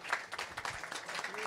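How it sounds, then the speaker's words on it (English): Applause from a conference audience at a climate finance innovation event, a dense patter of clapping that runs throughout, moderately loud and slightly uneven, with a voice briefly audible beneath it. "this lady needs a round of applause"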